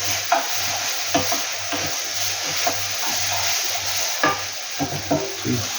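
Onions frying in a pan for lamb karahi: a steady close sizzle and hiss with a low hum beneath, broken by repeated scraping stirs of a utensil against the pan.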